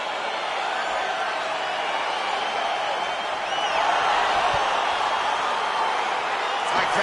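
An arena crowd at a UFC fight keeps up a dense, continuous roar of cheering as the bout begins, swelling slightly toward the middle, with commentary voices faintly mixed in.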